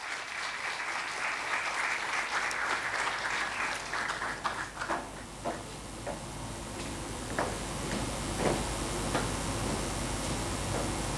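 An audience at an HR dialogue panel event applauds a panelist being invited on stage, with dense clapping that thins into scattered individual claps toward the end.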